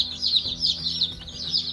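Coco Maran hens cluck and chatter nearby in a backyard flock, with overlapping short calls and a continuous high-pitched chorus of peeps.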